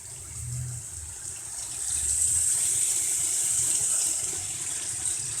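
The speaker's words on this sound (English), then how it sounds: "I think the rush of water is starting to wear down that hail" Water rushes and gushes steadily during a hailstorm in Tigard, Oregon, a continuous broad wash that swells in the middle and holds, heard from indoors near a window with a faint high hiss on top.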